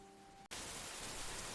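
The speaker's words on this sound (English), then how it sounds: "Rain tapped softly on the living room window." Soft rain against a living room window, a steady close hiss of drops that begins abruptly after a quiet hum and carries on evenly and faintly.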